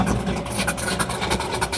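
A supercharged 801 hp pro-street Chevy II idles close by with a steady, loud rumble from the exhaust exiting over the rear end, and the engine tone stays continuous and unbroken throughout.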